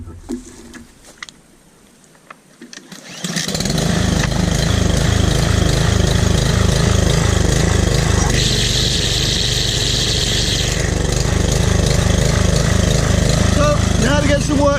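A DR string trimmer's small gas engine starts up after a quiet stretch of about three seconds, then runs steadily and loudly at high revs close by for the remainder.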